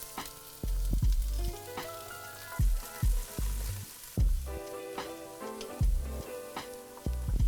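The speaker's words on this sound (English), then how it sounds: "I love sizzling butter." Butter sizzles and spits in a pan as carrots, shallots and garlic soften for a vegan mushroom bourguignon, loud and close with a steady frying hiss and repeated sharp pops and bursts, no voices.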